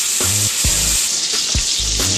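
Butter heats in a pan on the stove with a bright, steady close-up sizzle, broken by soft rhythmic low thumps roughly every second, with no talking.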